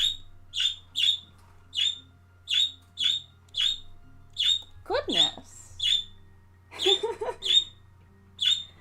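Pet birds squawk and chirp in a steady run of sharp, repeated calls, loud and close, with a burst of busier, scratchy chatter near the end; a person briefly exclaims over them.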